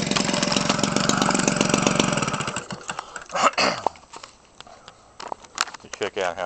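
Homelite 25cc RC gas engine fitted with a modified muffler, buzzing loud and steady for about two seconds, then cutting off into scattered clicks and handling noises with brief talk.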